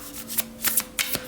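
Tarot cards being shuffled by hand, a run of crisp riffling bursts about every third of a second, close and fairly quiet, with no one talking over them.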